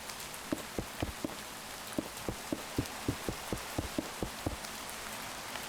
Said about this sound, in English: I do kind of like the atmosphere the rain gives, though. It makes it seem more like an actual forest.